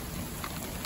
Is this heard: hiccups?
no